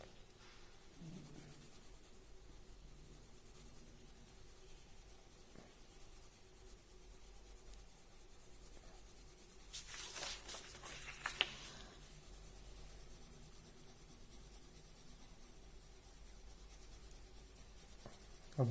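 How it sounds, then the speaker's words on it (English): Colour pencil shading lightly across paper for a marigold drawing, a soft, faint, continuous scratching with a brief louder rub midway. "First, always you have to color lightly with color pencil."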